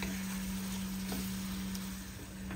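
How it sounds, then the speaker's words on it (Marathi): Ivy gourd (tondli) sautés in a pan as a continuous low sizzle, steady and fairly faint, with a constant hum beneath it. "आणि 1-2 मिनिटं हे सर्व परतून घेऊया"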